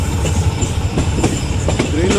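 Green Line 9051 express train running on rails, a steady loud rumble with rhythmic clickety-clack of wheels over joints throughout.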